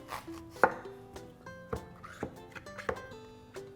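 Knife slicing through zucchini on a cutting board, a handful of sharp, close chops spaced irregularly with a ringing, resonant tone between cuts.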